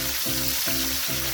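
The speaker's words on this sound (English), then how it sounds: "she's placing them inside the frying pan" Salt-and-pepper seasoned fish fry in very hot oil in a pan over a backyard coal pot, giving a steady, close hiss of sizzling with a faint low rhythmic pulse beneath.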